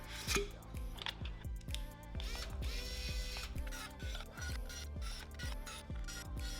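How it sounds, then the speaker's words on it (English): A ratcheting screwdriver drives screws to mount a Raspberry Pi 5 assembly onto one half of a case enclosure, giving a steady run of quick, evenly spaced mechanical clicks, close and fairly loud, with no talking. "The Pi assembly is then mounted onto one enclosure half with 10 screws."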